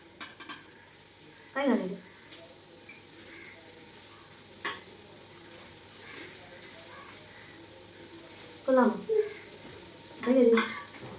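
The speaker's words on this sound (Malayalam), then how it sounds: "സവാള എല്ലാം വഴണ്ട് വന്നിട്ടുണ്ട്" Onions sautéing in a pan with ginger and garlic, a faint steady sizzle broken by a few louder scraping stirs of a spoon against the pan.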